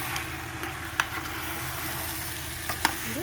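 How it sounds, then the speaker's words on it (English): A pot of Nigerian party jollof rice is stirred, giving a steady, close sizzling hiss with a couple of sharp scraping knocks against the pot, and no voices. "I'm going to stir together properly"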